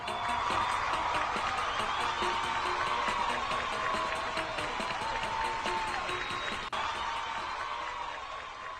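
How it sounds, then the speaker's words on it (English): A round of applause from a room of review-center students congratulated on passing their civil engineering exams, steady dense clapping for several seconds before thinning near the end, with little talk. "Let's give each one of us a round of applause"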